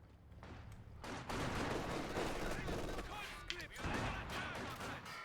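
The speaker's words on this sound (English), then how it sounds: "they got grenadiers and machine guns, and of course backed up by an MG42 team" Dense machine gun fire rattles through a Company of Heroes 2 battle involving grenadiers and an MG42 team, a continuous loud fusillade of overlapping shots with brief pauses, while a voice talks over it.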